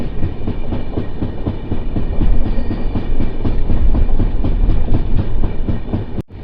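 The Kacheguda to Murude passenger train runs near Kumta, its wheels clattering loud and close in a rapid, steady clickety-clack rhythm, with no voices, until a sudden cut at the end.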